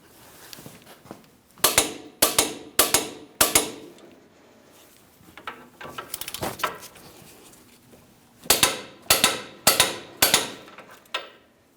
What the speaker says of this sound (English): Let's go ahead and torque those to that 203 foot-pounds.